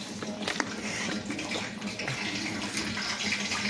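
Hot oil sizzles and bubbles steadily at close range around a frying tater tot, a constant crackling hiss with no talking.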